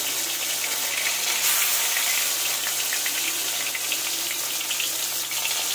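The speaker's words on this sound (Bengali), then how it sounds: "এবার তেলের মধ্যে আগে এই যে তেঁতুলটা ভেজে নেব।" Tamarind fries in hot oil in a home kitchen, giving a loud, steady, close sizzle and crackling hiss that runs unbroken throughout, with no voices.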